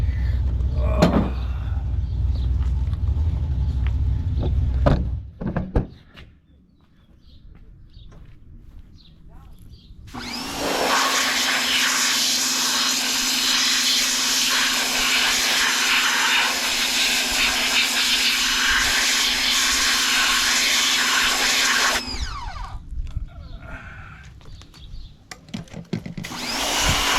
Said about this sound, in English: Power wash it some more. Try and get some of the junk out of it.